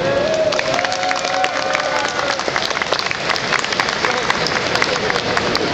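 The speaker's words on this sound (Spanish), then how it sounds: "Dense un aplauso a ustedes mismos, por favor." A large audience applauds steadily, dense clapping and crowd noise filling the space throughout.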